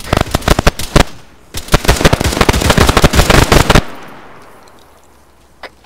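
Loud rapid bursts of gunfire and blasts in a military shooter video game as an RPG rocket is fired at a jeep, a dense clattering volley for several seconds that cuts off, leaving a decaying rumble and one faint later pop.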